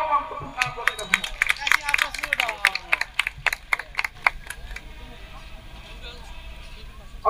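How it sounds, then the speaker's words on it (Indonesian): Scattered clapping from a small crowd at a street protest rally in Indonesia for a few seconds, fading out into murmuring background noise. "tepuk tangan buat kita semua"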